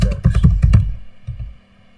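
Close, fast typing on a computer keyboard: a quick burst of several sharp clicks that stops abruptly, leaving a quieter stretch with a few soft taps.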